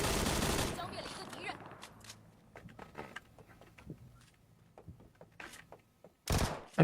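Bursts of video game gunfire, a loud sustained volley at the start and another near the end, with scattered sharper single shots and clicks between them at moderate volume, no voices.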